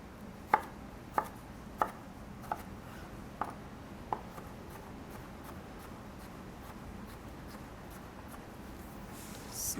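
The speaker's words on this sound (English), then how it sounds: "small dice these all the way through" A knife small-dices vegetables for a classic salad on a cutting board, giving a run of sharp, evenly spaced chops that thin out and stop, close but soft against a quiet room hiss.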